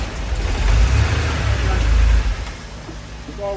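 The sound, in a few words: 1982 Porsche 911 engine running rough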